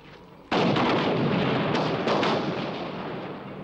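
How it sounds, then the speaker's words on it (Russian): Gunfire erupts from a film scene after a short quiet lead-in. A sudden loud burst of shooting or blasts sustains densely and fades slightly as it continues. "Стреляют!"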